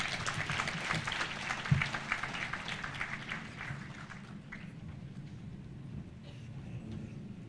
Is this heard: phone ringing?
no